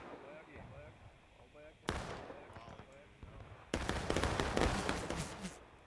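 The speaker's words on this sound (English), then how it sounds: "Looks like they're just taking some volley shots at the Union here." Musket volleys in a historical battle video game of Union and Confederate forces sound as two loud crackling mass discharges of overlapping shots, set against quieter ambient battle noise, with a commentator speaking between them.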